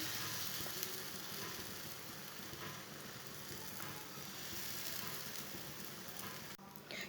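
Besan paratha frying in oil on a pan, a steady, even sizzle with fine crackle that holds throughout, quiet and close with no talking.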